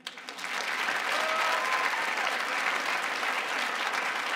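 Comedy show audience bursting into applause in response to a question about unfinished Monopoly games, rising quickly from a few claps into a full, even roar of clapping that holds steady.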